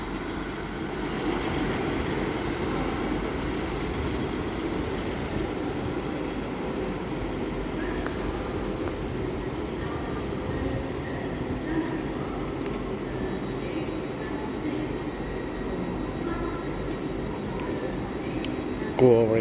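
Northern class 158 diesel unit 158905 at Doncaster station on a service to Sheffield, a steady low engine rumble and rolling hum at moderate distance, continuous throughout with faint station noise.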